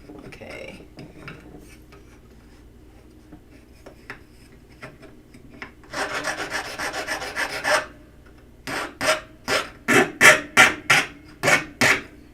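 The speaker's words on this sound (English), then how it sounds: "I'm just going to file the edges down a little bit to remove any burrs and to make it a little bit smoother" A hand file dressing the edges of a workpiece to take off burrs, first a long continuous rasping stroke, then a run of short, loud, rhythmic back-and-forth strokes, close up and alone.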